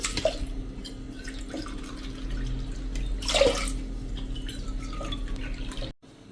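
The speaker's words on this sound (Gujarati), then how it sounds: "3 કપ આપણે પાણી નાખી દેશું" Water trickles and splashes into a pressure cooker holding urad dal, a steady close pour with a few louder splashes before it stops abruptly near the end.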